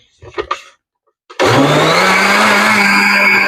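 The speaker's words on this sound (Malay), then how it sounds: "cara guna blender tepung" After a short murmur of speech and a pause, a blender mixing flour batter for roti jala switches on abruptly and whirs loudly and steadily, close by.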